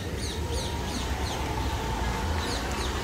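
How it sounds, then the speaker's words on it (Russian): Tropical birds in Goa, India, call loudly and repeatedly in sharp, descending chirps over a dense, steady chorus of insects and distant birdsong, close and continuous throughout. "Слышите, как птицы орут?"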